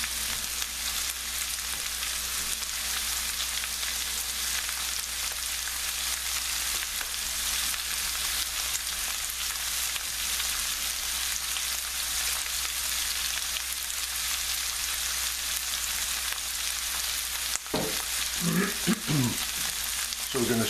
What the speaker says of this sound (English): So we're going to saute this.